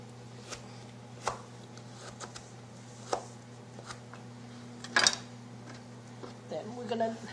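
A knife chops boiled cassia leaves for Lao cassia stew (gang khiilek) on a board in sparse, irregular thuds, with one sharper strike and a low steady hum underneath.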